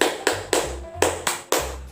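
Classroom clap game in a fifth-grade class, with five crisp hand claps in an even rhythm, the first two a short pair and then three more. Close, distinct and alone, with no voices over them.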